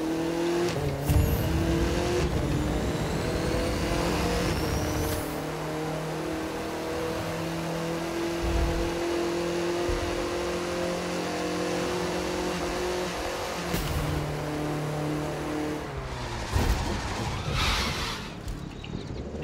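Audi TT RS driven hard in The Crew 2 through a city, its engine revving loudly and steadily with repeated gear shifts, plus brief tire squeal and a couple of sharp bumps near the end.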